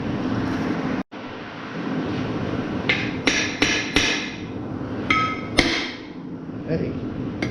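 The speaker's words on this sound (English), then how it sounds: "I'm gonna grab me a better hammer" Hammer blows on a stuck brake drum being knocked loose during a brake pad job in a home garage, a run of sharp metallic strikes, some in quick pairs, loud and close over a steady background hum.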